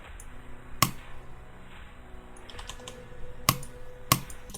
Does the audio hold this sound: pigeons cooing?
no